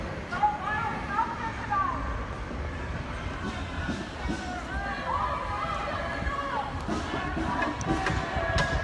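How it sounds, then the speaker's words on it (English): Protest crowd outside a federal courthouse in downtown Portland, chanting Black Lives Matter as a steady, distant mass of voices with scattered shouts and footfalls, continuous throughout. "You can hear they're chanting Black Lives Matter again."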